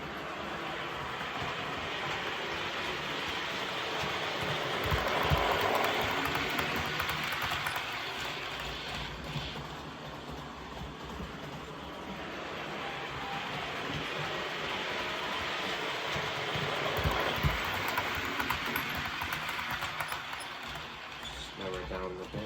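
An Accurascale Class 37 model locomotive under DCC control runs at high speed, a steady rolling hum with rhythmic clicking of wheels over rail joints, swelling as it passes nearby, with a voice talking over it at times.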